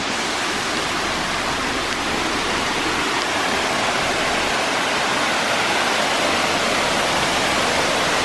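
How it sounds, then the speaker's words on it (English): A waterfall right beside a highway gives a steady, close, loud rushing roar of falling water that holds constant from start to finish, with no talking. "Right on the side of the highway is a waterfall."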